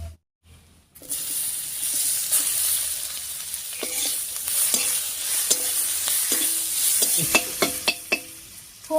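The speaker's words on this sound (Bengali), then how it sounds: "ফোড়নের সঙ্গে পেঁয়াজটা ভাজা হয়ে গেছে" Chopped onion frying with whole spices in a pan of oil, hissing steadily and loudly at close range while a spatula scrapes and clinks against the pan in a run of quick stirs toward the end.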